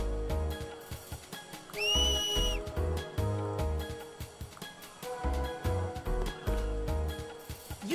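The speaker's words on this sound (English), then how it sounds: "I've always wanted to learn how to whistle like that, but I don't know how" A sharp, shrill finger whistle in the video game Final Fantasy X, one rising-then-held blast that stands out over busy game music and effects, with no talk.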